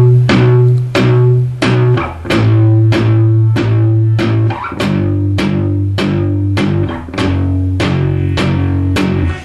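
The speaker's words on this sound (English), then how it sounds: "So I want you to apply that palm muting technique now to the little power chord" Guitar power chord sequence played palm-muted, each chord plucked four times in a steady, chugging rhythm. The short, damped notes are close and loud, with no speech over them.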